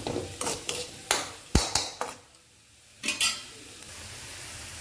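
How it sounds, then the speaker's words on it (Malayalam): A spoon scrapes and clatters through okra masala with tomatoes in a pan, a series of sharp stirring knocks followed by a quiet pause and two more strokes, over soft frying sizzle. "എന്നിട്ട് നമുക്കൊന്ന് ഇളക്കി ഒന്ന് മൂടി വെക്കാം."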